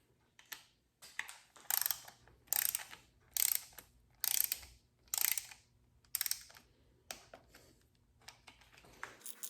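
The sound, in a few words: ratchet wrench torquing down engine bolts in sequence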